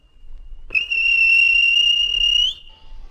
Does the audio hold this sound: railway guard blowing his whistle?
yes